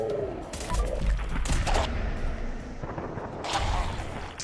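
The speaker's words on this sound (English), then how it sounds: "Oh, so many shots." A flurry of gunfire in a Fallout 4 firefight, rapid overlapping shots and blasts over a low rumble, loud and close with bursts at intervals.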